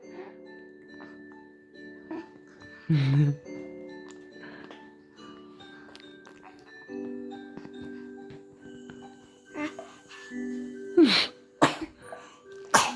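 An infant sneezes while being spoon-fed a first vegetable puree, with a few short sharp bursts standing out over a quiet room with soft clicks and small mouth sounds.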